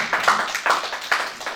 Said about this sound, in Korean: 박수로 한번 보내주시기 바랍니다.